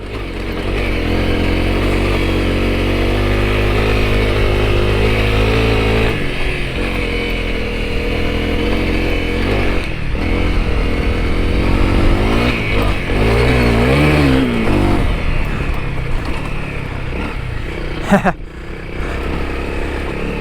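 A Honda CRF250L dual-sport motorcycle labors uphill in second gear on a local trail, its engine droning loudly and steadily close up, with the revs rising and wavering as it pulls through a turn.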